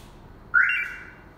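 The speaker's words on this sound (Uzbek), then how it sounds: "Signalizatsiya ovozi chiqaradi" A Magicar 906 alarm fitted to a Lada Vesta Cross gives one clear electronic tone, close by and loud, lasting just under a second before it fades, with no talking.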